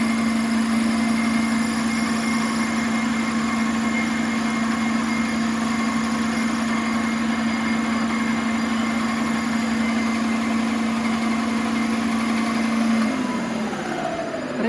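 A K-750 motorcycle engine with a budget CDI ignition running steadily at about 1500 rpm, a loud even hum close up that shifts slightly near the end.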